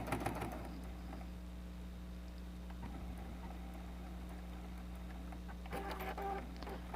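A sewing machine back stitching at the start of a seam on a cross-back patchwork apron gives a steady, even motor hum that runs throughout with little change.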